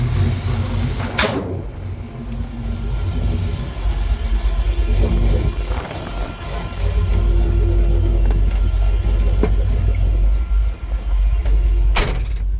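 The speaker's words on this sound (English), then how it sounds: "let's go for a ride in Rusty's truck" A 1977 Ford F-150 pickup with a mild roller-cam EFI 460 V8 rumbles low and steady from inside the cab on a test drive, with a couple of sharp clicks or knocks along the way.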